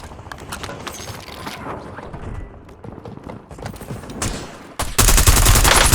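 Rapid bursts of automatic gunfire from a Call of Duty Warzone match on Rebirth Island, played on PS5, crackling unevenly and then building into a loud, dense volley near the end.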